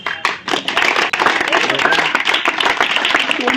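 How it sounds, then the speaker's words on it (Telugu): Classroom applause during a spelling test results session, a burst of many hands clapping loud and steady throughout, with a teacher's voice talking over it. "దుర్గా ప్రసాద్ క్లాప్స్."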